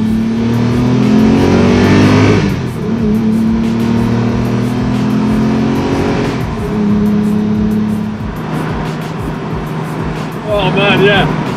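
Lamborghini Murcielago LP650 Roadster V12 engine revving hard while driving, rising and falling in steady pitch sweeps. It is loud and close, with wind noise and a person talking briefly near the end.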